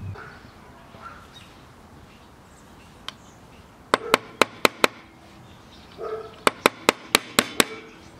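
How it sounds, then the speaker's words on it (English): Two bursts of sharp metallic taps, about five quick evenly spaced strikes each, a small hammer and a piece of steel tapping a nail into a scrap wood picnic table, with a single tap before. "I'll just lightly tap that in with a piece of steel,"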